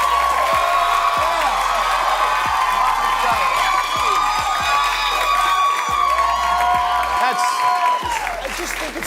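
A studio audience claps and cheers loudly without pause, with whoops and shouted voices rising above dense, continuous applause.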